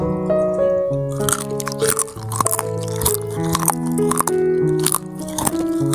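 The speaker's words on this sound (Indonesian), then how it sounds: "Kacangnya gurih dan renyah, dan karena ukurannya yang jumbo jadi mirip kacang mede" Crisp, repeated crunching of jumbo fried garlic peanuts being chewed close up during tasting, with irregular bites over a steady tonal background hum and no talk.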